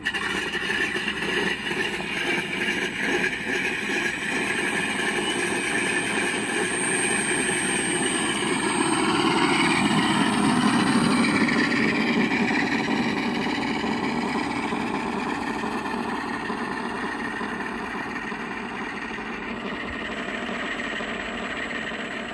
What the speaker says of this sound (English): We're gonna go ahead and taxi it now down there.